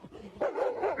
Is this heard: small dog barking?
yes